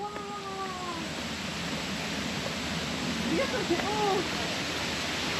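Constant rushing of a waterfall fills the scene with broad, steady noise, while voices speak briefly beneath it.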